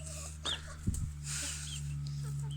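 Chickens and roosters in a backyard flock cluck and call at close range, with a few short bursts over steady low hum and no talk.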